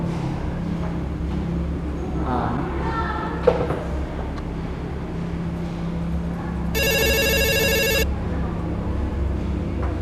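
A telephone rings in a steady electronic trill for about a second, loud and close, over a low background hum.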